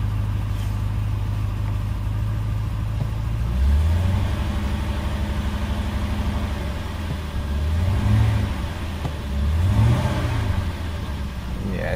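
A Jaguar XJ12 Series 3 fitted with a V8 settles at idle, a steady low engine burble with a few brief rises in pitch, recorded close by with no talk.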